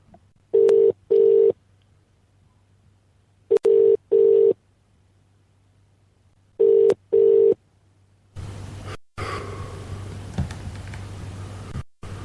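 A telephone call placed during a live lunchtime radio show: three pairs of loud ringback tones repeat over a steady low hum, then give way to a noisy open line.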